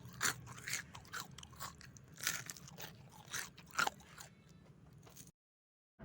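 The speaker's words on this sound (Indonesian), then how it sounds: "Saya makan bakwannya dulu." A crunchy fried bihun vermicelli fritter (bakwan) is bitten and chewed up close, giving repeated loud crisp crunches in an uneven rhythm before a brief silence.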